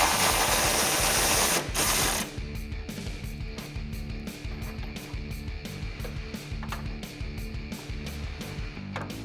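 A hand ratchet with an 18 mm socket loosens rear bumper nuts on a 2019-2021 Silverado or Sierra 1500, clicking in quick repeated bursts after a loud rushing burst at the start.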